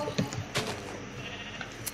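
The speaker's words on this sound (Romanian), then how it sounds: "Încă o oaie." Sheep bleat in the Minecraft video game, a few short wavering cries spaced across two seconds over a busy game background, fairly close and clear.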